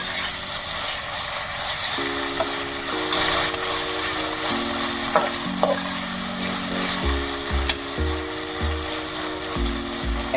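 Thinly sliced onions sizzle steadily in oil in a pressure cooker while a ladle stirs and scrapes the pot in repeated strokes, with a low hum running underneath and close, continuous frying throughout.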